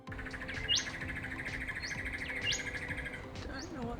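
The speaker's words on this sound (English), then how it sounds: "Don't know what this little bird is." A small bird singing near a coastal bush track in New South Wales, Australia, repeating bright rising chirps about once a second over a soft outdoor background.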